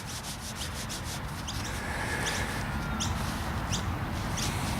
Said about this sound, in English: So let's give it a bit of a rub.